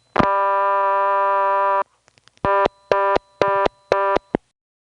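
A 1977 XY step telephone exchange in Saluda, South Carolina gives one long steady tone, a few faint clicks, then a fast reorder signal of four loud evenly spaced beeps, all close and alone.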